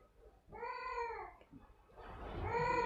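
A house cat meows twice nearby, with a short, drawn-out call followed by a louder, longer one, in a quiet room with no talking.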